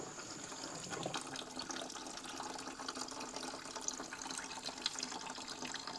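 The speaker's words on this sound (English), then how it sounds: "Mira, aquí estoy sacando el agua de ácido." Acid-laced water drains out of a barrel during cocaine processing, a faint, steady trickling and splashing flow with small drips, continuous and without talk.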